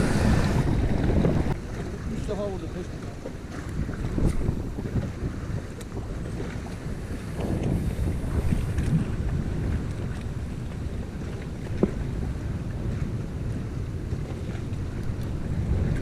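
Strong, cold wind roars continuously against the microphone beside open water while fishing for sea bass, with waves, a current and a boat's rumble blending into a loud, unbroken rush.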